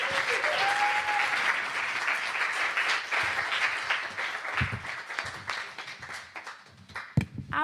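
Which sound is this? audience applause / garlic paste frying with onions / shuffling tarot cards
audience applause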